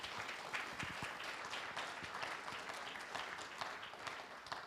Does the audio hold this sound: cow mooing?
no